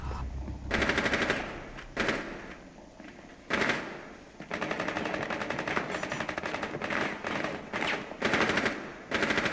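Rainbow Six Siege gunfire fills the scene: loud rapid automatic bursts in repeated volleys, broken by short pauses, with a single headshot among the shots.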